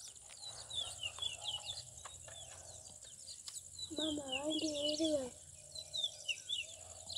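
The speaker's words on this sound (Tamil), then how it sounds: "நிறைய குருவி இருக்குது நிறைய ஃபுல்லாவே கூடு கட்டிருக்கு" Many weaver birds in a village tree busily building nests, giving a steady stream of high, quick chirps and twitters, with a louder burst of calls in the middle and faint background hum.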